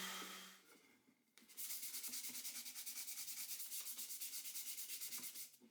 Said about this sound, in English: With 120 grit sandpaper, give everything a good sanding